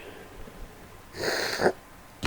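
A single sneeze bursts out mid-clip, a short noisy blast after a quiet stretch, followed by a brief sharp sound at the end.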